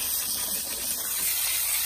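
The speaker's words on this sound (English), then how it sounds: "you always want to spray against the foundation wall as well" Termite chemical sprays from a nozzle against a masonry foundation wall, producing a steady, close, loud hiss that holds continuously without pause.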